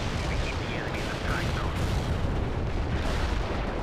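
Artillery barrage in World in Conflict, a continuous loud rumbling wash of overlapping distant blasts and booms with no clear pause.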